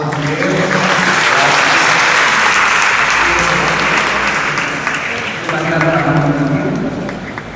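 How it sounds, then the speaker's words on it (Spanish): Loud, sustained applause fills the hall at a faith academy gathering of a Santa María Goretti parish, a thick roar of many hands that dips briefly and surges again, with voices mixed in underneath. "Damos un fuerte aplauso."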